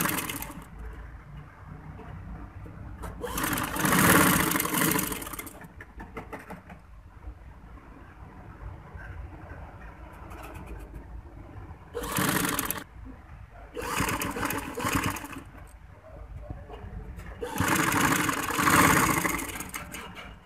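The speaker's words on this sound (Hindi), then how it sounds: "ऐसे किनारे पर सिलाई लगाएंगे।" A sewing machine stitches piping onto the edge of a frock, whirring in several short bursts with quiet pauses between runs.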